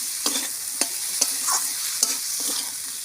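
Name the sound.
stir-frying with salt in a pan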